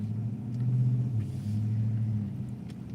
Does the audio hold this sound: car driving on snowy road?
yes